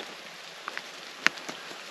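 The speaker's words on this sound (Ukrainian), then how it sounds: "паде дощ" Light rain pattering on a surface at a pond before dawn, scattered soft drops with one sharper tap, quiet and steady in an otherwise still setting.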